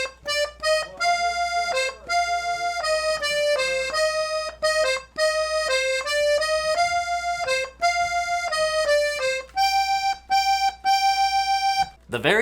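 A 32 bass accordion plays a steady melody of short, detached notes with brief gaps between phrases, reedy and bright, using alternating bass.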